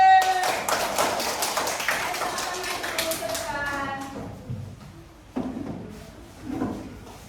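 Students in a classroom clap for a winning group, a burst of brisk clapping in the first few seconds that thins out, followed by scattered knocks and thumps and a few voices.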